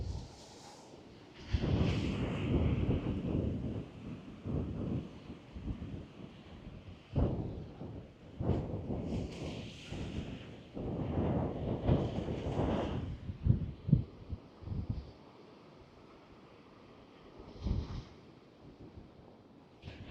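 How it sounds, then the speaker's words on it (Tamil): Strong wind buffets the microphone in loud, rumbling gusts that rise and fall, with brief quieter lulls between blasts. "நல்ல காற்று, எனக்கு ஃபோனே நிற்கிது இல்லை, கடுங்காற்று."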